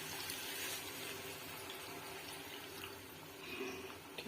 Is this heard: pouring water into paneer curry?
yes